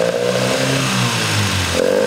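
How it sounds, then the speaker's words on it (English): An MGB car engine runs close up with a loud, steady, even drone after its electronic ignition fault has been repaired, the pitch briefly dipping then returning, with no talking. "the engine is now running very smooth"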